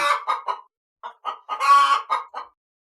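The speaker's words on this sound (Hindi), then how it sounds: "एक दिन रात में मुर्गी की चिल्लाने की आवाज से बूढ़ी की नींद टूट जाती है" A cartoon hen squawks and clucks at night in a burst of loud, agitated calls, a few short cries then a longer strained squawk, close by.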